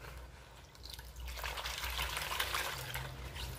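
Cold water runs from a tap onto gloved hands, starting as a soft trickle and swelling into a steady, close splashing stream after about a second.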